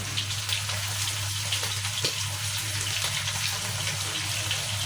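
Hilsa fish frying in hot oil, a steady broadband hiss and sizzle with faint crackles, continuous and fairly loud throughout with no voices.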